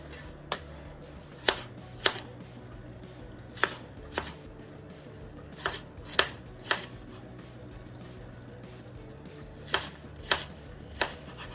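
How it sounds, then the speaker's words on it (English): A knife chopping food into cubes on a board, with a dozen or so crisp, separate cuts coming in uneven bursts over a quiet room, close and fairly soft. "And I just kind of chop it up into cubes."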